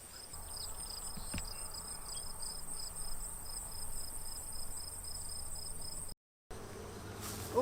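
Honey bees buzz steadily around their hives, a dense, continuous drone that hums alone at a moderate distance with no talking, broken by a brief dropout near the end.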